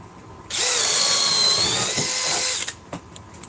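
A cordless drill fitted with an 8 amp battery pack whines loud and steady for about two seconds, then spins down and stops, leaving a couple of faint clicks afterward.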